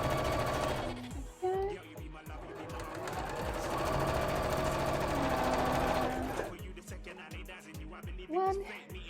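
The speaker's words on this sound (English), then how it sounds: "But I want to sew this piece together to make sure that it fits." A sewing machine stitches a cosplay coat piece, running in a long, fast, rattling burst between shorter start-stop runs, close and fairly loud, with brief vocal sounds near the start and end.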